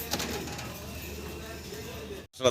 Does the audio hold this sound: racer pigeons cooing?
yes